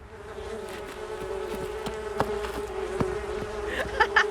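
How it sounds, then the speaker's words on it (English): A bee buzzes steadily and close for about four seconds, a continuous droning hum with a few small clicks and taps around it. "A bee is coming in from the right side and is chasing you."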